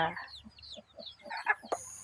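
A black village chicken clucks in a series of short, close calls, with some light background noise and a sharp knock near the end.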